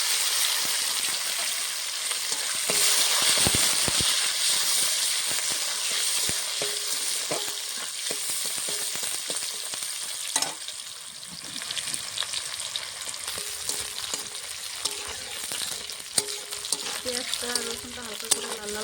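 Onion and garlic fry in a pan for egg pulao, a continuous bright sizzle with scattered crackles and occasional stirring scrapes, staying fairly loud and close throughout.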